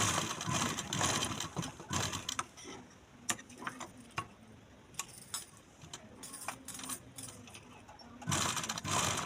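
Sewing machine running in short bursts while stitching a half-inch seam on a baby panty in a tailoring boutique, with quick mechanical ticking and starts and stops between runs, fairly close and unaccompanied by talk.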